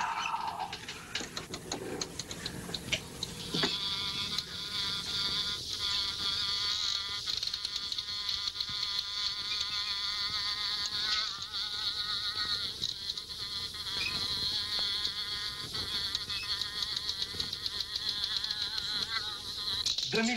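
A housefly buzzes continuously near sugar cubes, a steady high whine that swells and wavers as it circles close by, with faint clicks and room noise beneath and no talking.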